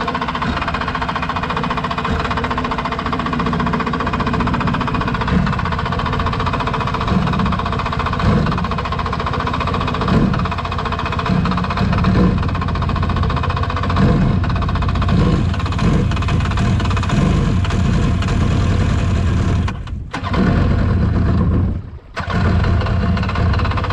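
A cheap Waverunner personal watercraft engine, waterlogged and with its muffler coming apart, runs loud and rough with a steady knocking drone for a long stretch, cutting out sharply twice near the end before catching again.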